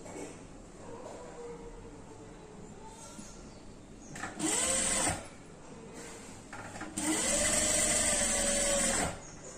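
A sewing machine stitching the edges of paper for a notebook cover, two loud whirring runs of stitching over a low background hum and light handling noises.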